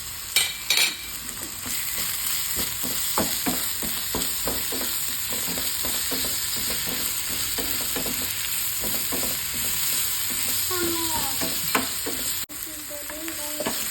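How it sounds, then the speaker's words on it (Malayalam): Crushed ginger and garlic sautéing in a pan, a constant crackling sizzle under rhythmic spatula scrapes and a few clinks, close and steady throughout, with no talk. "വെളുത്തുള്ളിയൊക്കെ അതിൻ്റെ പച്ചമണം പോകുന്ന വരെ നന്നായിട്ടൊന്ന് വഴറ്റിയെടുത്തിട്ട്"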